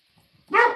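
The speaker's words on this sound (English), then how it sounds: "as soon as I go live, he's barking." A dog barks close by in a single loud burst after a quiet lead-in, with faint movement noises beforehand.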